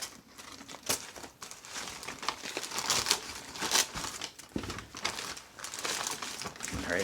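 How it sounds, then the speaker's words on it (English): Box cutter slicing into the cardboard shipping box of a Zelos Mako V3 Sodalite watch, with steady crinkling, scraping and tearing of packaging close to the microphone for several seconds. "So let's go ahead and cut into this."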